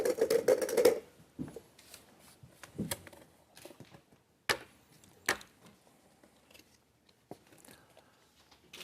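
Plastic draw balls for a UEFA Europa League draw rattle and clack as they are shuffled in a glass bowl, with a burst of quick knocks at the start and scattered clicks that follow at close range.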